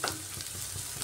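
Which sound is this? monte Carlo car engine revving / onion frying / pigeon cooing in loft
onion frying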